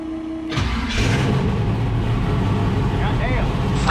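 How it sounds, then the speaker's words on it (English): A turbocharged LS V8 in a Fox-body Mustang, running a Holley Terminator X, fires on its first cold start on the dyno: after a brief crank, it catches and settles into a loud, steady roar, with people shouting over it. "About the fastest first cold start ever."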